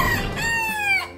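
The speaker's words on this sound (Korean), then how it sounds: "여러분들 여기 닭이 있습니다" A Brahma-like rooster at a long-established animal farm in Suriname gives one full crow, loud and close, with a rising then drawn-out call and no other sound around it.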